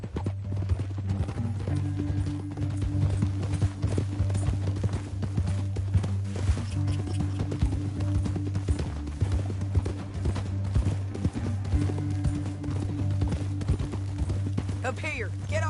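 Galloping hooves pound in a fast, continuous rhythm beneath a low, steady musical drone, with voices speaking over the hoofbeats.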